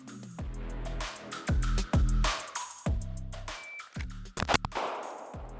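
Staccato XC or SIG P320 Spectre Comp compensated pistol firing at a range, several loud sharp shots in quick pairs and singles, close and punchy with no talking over them.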